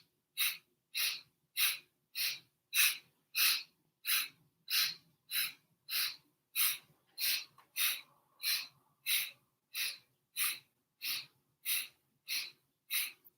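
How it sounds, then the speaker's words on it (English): Rhythmic breathing during a Kundalini yoga class, about nineteen sharp, evenly spaced breaths pumping steadily at close range with no talk. "Inhale forward, inhale backwards."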